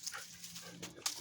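A dog whimpering softly in short, faint whines and pants close by, with a low steady hum underneath.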